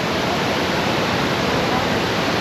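Water crashes down in a dense, continuous roar, a steady broadband rush with no breaks or voices.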